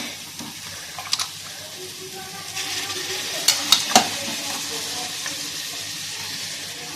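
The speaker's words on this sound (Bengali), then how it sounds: "এবার মাংসটা আস্তে আস্তে করে তুলে দিয়ে দেবো।" Mutton and potatoes go into a hot pan for a Bengali mutton curry, giving a steady loud sizzle with stirring scrapes and a few sharp clinks, voices faint underneath.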